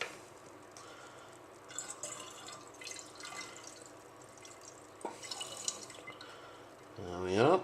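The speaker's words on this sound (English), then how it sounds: "I'm going to put this in here just so it's easier to pour." Liquid for Ribena wine splashes and trickles into a container amid quiet handling noises, with a brief gurgling pour near the end.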